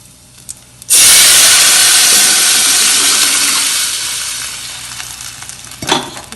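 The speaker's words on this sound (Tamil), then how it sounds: "இப்போ கொஞ்சோண்டு பெருங்காயத்தை போட்டு கொஞ்சம் நல்லா இது பண்ணிவிட்டு இப்போ இந்த குழம்பு எடுத்து நம்ம இதில் ஊற்ற போகிறோம்." Buttermilk kuzhambu poured into a hot tempering with asafoetida bursts into a loud, sustained sizzle that fades slowly over several seconds, with a short clatter near the end.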